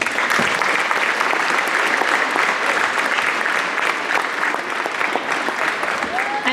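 A Veterans Day ceremony audience applauds veterans with a loud, sustained round of clapping that stays dense and even throughout.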